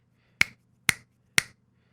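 Three crisp finger snaps ring out alone, evenly spaced about half a second apart, close and clean against a faint low hum.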